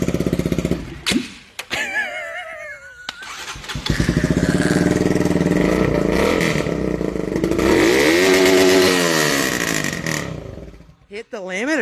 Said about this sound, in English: We're hitting the limiter this morning.